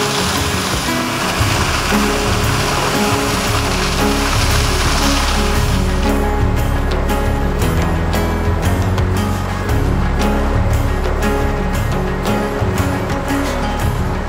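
Svartifoss waterfall in Iceland, framed by basalt columns, gives a steady, loud roar of falling water that fills the whole scene without a break.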